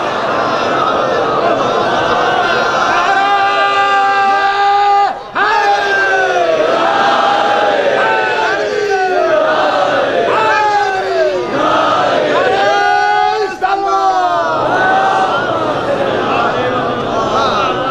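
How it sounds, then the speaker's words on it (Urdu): A large crowd at a Shia majlis gathering loudly recites salawat in unison, rising and falling in long rhythmic phrases, filling the space continuously. "ایک صلوات بھیج بلند آواز سے بر محمد و آل محمد"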